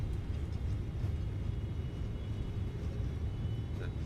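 A Boeing 777's engines in reverse thrust during the landing rollout in MSFS 2024 give a steady, low, rumbling roar that stays fairly quiet and even throughout.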